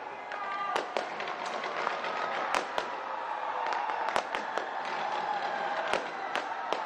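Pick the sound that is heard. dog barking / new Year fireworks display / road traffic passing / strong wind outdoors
new Year fireworks display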